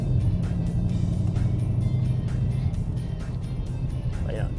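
Ford Mustang GT350 V8 on its factory exhaust, a steady low engine drone running throughout as the car drives, with someone talking over it.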